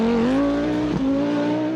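Group B Audi Quattro rally car racing, its engine holding a loud, steady, buzzing note with a brief dip and rise as it changes gear, close by with no voices.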